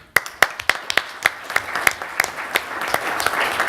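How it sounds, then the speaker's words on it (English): Panel discussion participants clap for themselves in a short burst of moderately loud applause, distinct individual claps at first, quickly thickening into a steady patter. "give yourselves a round of applause for the participation"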